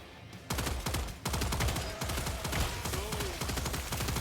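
Rapid automatic turret fire from Killing Floor, a steady stream of closely spaced shots running almost without pause, loud and near, with brief breaks before bursts resume.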